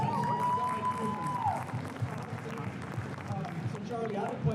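Convention audience at Nostalgia Con Anaheim applauding together, a dense steady wash of clapping and crowd noise that carries on through the whole stretch, with voices talking over it.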